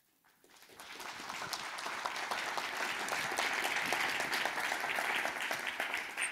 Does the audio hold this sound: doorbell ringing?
no